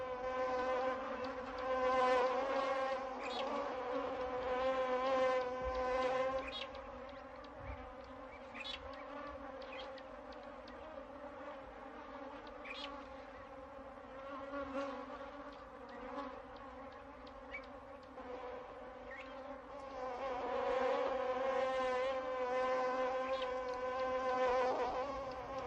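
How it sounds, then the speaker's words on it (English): Swarm of bees buzzing steadily close by in the African bush around lions, a dense continuous drone that swells and ebbs over about half a minute, with no voices. "When the lions move on, the bees go in search of new victims."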